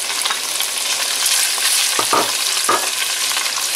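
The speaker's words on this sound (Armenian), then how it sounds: "Տապակվել է խոզի միսը" Pork sizzles and fries in a pan for Georgian ojakhuri, a steady, loud crackle with a couple of brief stirring scrapes and no voices.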